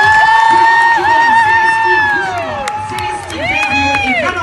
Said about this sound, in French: Allez, vous pouvez les applaudir bien fort.